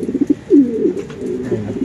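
A racing derby pigeon coos close by, giving a few soft throaty calls with brief warbling rolls over quiet background, and no one speaks.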